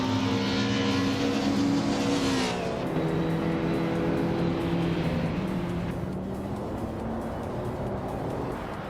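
A 1988 Porsche 949 Turbo S race car in a racing video game: a loud, sustained engine whine that shifts pitch partway through, with steady road roar and no talking.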